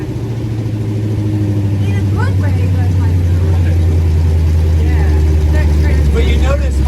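The Brooklyn Dodger race truck's engine pulls hard in gear, a loud, steady low drone that climbs slightly in pitch and stays up close, with voices speaking briefly over it.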